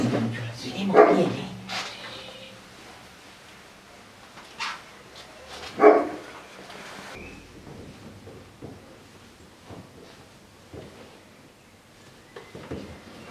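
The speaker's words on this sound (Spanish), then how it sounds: "El perro que está por la huerta." A dog barks a few times from a garden, sharp bursts near the start and again around the middle, with quiet voices and rustling in between.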